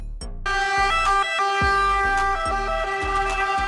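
A van ambulance's electronic siren wails loud and close, starting abruptly and cycling steadily in repeated rising and falling tones with no talk.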